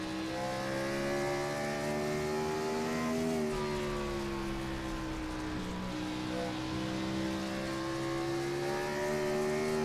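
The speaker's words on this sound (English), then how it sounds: "listen to how they're working the throttle" A race car engine at Bristol revving continuously as the driver modulates the throttle, a strong droning note rising and dipping in pitch over several seconds, loud and sustained with no voices.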